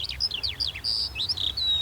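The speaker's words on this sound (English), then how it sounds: "Hear the birds though, eh?" Small birds chirp and tweet at an outdoor airfield, a quick run of thin, high, downward-sliding calls over a low background rumble, moderately distant.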